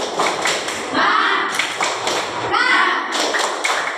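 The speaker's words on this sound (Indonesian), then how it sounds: "Tepuk semangat." Children clapping a rhythmic spirit clap in an Islamic studies classroom, sharp bursts of claps and taps in short groups with kids' voices chanting among them.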